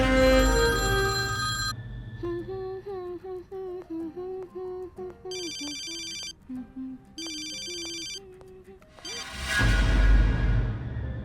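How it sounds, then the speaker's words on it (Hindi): A telephone in a Hindi war drama rings with an electronic ringtone, its repeated tonal bursts loud and close, followed by a swelling whoosh. "देखते हैं शायद मेरा फोन उठा ले।"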